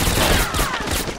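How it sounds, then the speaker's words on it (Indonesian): Dense, loud gunfire from a PS2 war video game, including the game's headshot sound effect, with a thin descending tone sliding through a steady barrage of shots. "kalau ada suara lempeng gitu, berarti headshot cuy"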